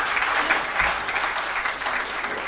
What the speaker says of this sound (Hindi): मैं चाहूँगा कि आप सब तालियों के ज़रिए इन हज़रात को मुबारकबाद पेश करें